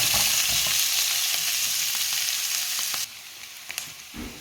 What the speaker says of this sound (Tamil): இப்போ நாங்கள் பச்சை மிளகாய் வெங்காயத்தை முண்டாவே போடுவோம்